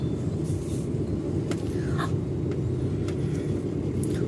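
A car creeps slowly through dense rush-hour traffic, a continuous low engine and road rumble heard from inside, with occasional faint higher noises from surrounding vehicles.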